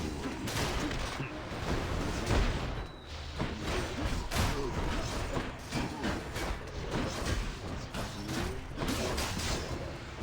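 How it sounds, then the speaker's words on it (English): Pink explosions from a dash attack in the action game Hades burst again and again amid dense, loud combat noise, with thuds and crackles packed together throughout. "wherever you land, we'll just give a little explosion of pink"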